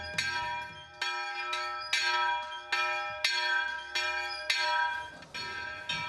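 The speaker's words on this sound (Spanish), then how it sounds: "El repique del campanario llama nuestra atención." A church bell in the bell tower of the San Pedro del Barco hermitage in El Barco de Ávila rings energetically, about eight loud, regular strikes roughly 0.7 seconds apart, each with a long ringing decay.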